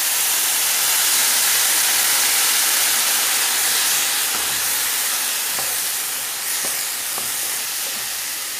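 Prepared sauce hits hot browned pasta in a pan, giving a loud, steady, close sizzling hiss that holds throughout and eases slightly toward the end.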